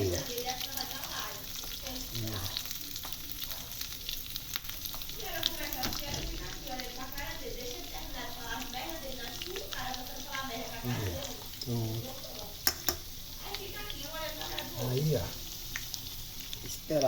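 Picanha beef sizzles over a São João bonfire outdoors, a soft steady crackle and hiss at moderate distance, with voices talking intermittently over it.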